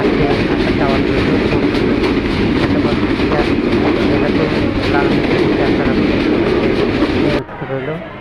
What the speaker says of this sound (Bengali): মনে করেন এখন বর্তমানে চুয়াডাঙ্গা রেল স্টেশন পৌঁছে গেছে, যাত্রী পৌঁছে সেই চুয়াডাঙ্গা রেল স্টেশন।